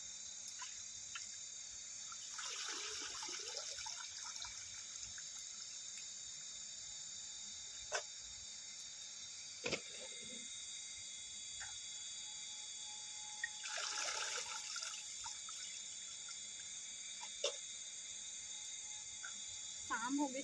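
Bhaji leafy greens being washed in water outdoors in cold evening weather, with two bursts of splashing and sloshing separated by quiet stretches, occasional sharp clicks and knocks, and faint background hiss.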